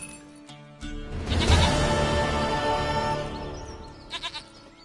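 A goat in the Witcher 3 game lets out a long, wavering bleat, loud and close, followed by a few short quieter bleats near the end.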